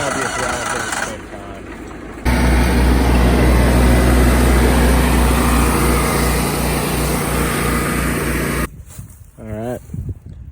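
Small engine of a mini skid stump grinder starting up, catching abruptly into a loud, steady roar after a quieter start-up stretch, then cutting back, with someone talking before and after.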